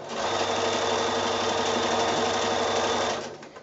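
Sewing machine running steadily while stitching binding onto a quilt wall-hanging, a fast even mechanical whir with rapid needle rhythm for about three seconds before it stops, close and clear.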